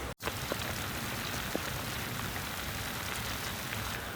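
Rain falls on a boat sailing along a creek in autumn, a soft, steady hiss of drops with occasional sharper taps, continuous and fairly faint after a brief opening click.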